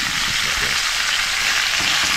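Three slices of seasoned fish fry in oil for a Jamaican brown stew fish, giving a loud, dense, unbroken sizzle close by with no talking.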